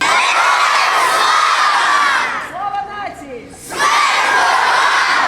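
Students shouting together with soldiers in a loud, sustained crowd chant, briefly dropping out midway before the massed shouting returns at full strength.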